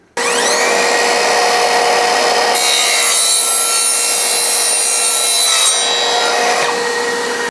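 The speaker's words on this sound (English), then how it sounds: "But if you're plumbing and you can cut copper tubing that quickly, it does save an awful lot of time." A cordless 18V sliding mitre saw slices through copper tubing, a loud, steady whine with a harsh metallic grinding edge that holds for several seconds before the pitch shifts and eases toward the end of the cut.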